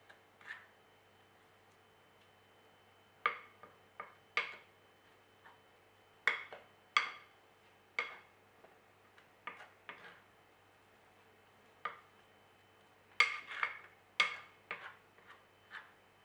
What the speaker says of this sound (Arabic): انا نخلط هاد المكونات مع بعض